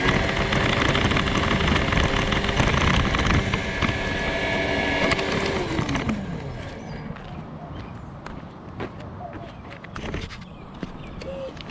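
A Traxxas TRX6 RC truck with a Tekin sensored brushless motor running in low gear; a loud, steady whine with rising and falling pitch and gritty crunching over the ground, easing after the middle into softer rolling and crackling noises.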